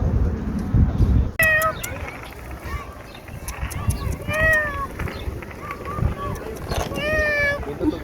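A stray cat in a park meows several times, short rising-falling cries scattered across the clip, with a person talking and background noise in between.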